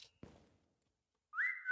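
Whistling in the VRChat horror world The Smile Room: a brief thump, then a clear rising whistled tone that holds steady, loud and close, with no one talking.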